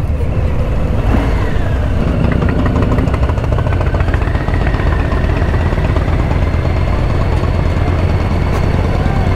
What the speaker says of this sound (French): C'est une belle bécane